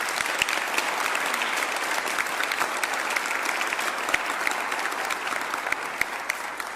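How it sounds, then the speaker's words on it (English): Steady, dense applause from a school audience at an upper school awards ceremony, filling the room loudly and evenly for the full stretch with no voices over it. "So let's give these students a big round of applause."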